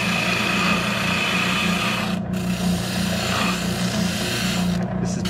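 An oscillating sander working a pine wood cabinet makes a continuous rasping, rubbing drone, close and steady, with brief pauses as the tool is rocked.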